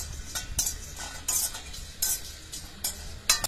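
Cloves and whole spices are roasted in a little oil in a pan for sambar powder, heard as a quiet run of rhythmic scraping and rattling strokes with faint sizzle beneath, roughly every half second, close and alone.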